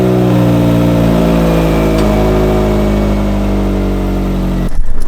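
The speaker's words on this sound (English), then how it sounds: "So cold start for the Fiat." A Fiat car engine cold-starts and idles loudly up close, a steady droning hum that cuts off abruptly near the end.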